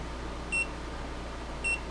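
Two short, high electronic beeps about a second apart from a small handheld laser distance meter, over a faint steady hum.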